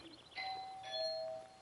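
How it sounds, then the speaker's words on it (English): A doorbell rings indoors with a soft ding-dong: a couple of clear bright tones sustained and overlapping, moderately quiet, no talking. "Sorry, ringing my bell."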